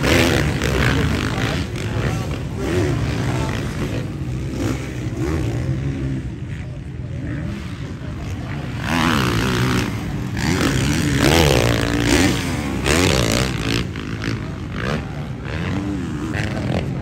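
Supercross motorcycles race on a dirt track, engines buzzing and revving loudly and continuously for the whole stretch, with crowd or announcer voices mixed faintly underneath.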